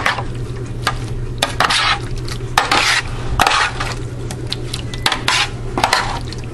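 A spoon stirs paprika into a shrimp scampi mixture in a dish, making close, repeated clinks and scrapes against the sides over a soft, steady background, with no talking.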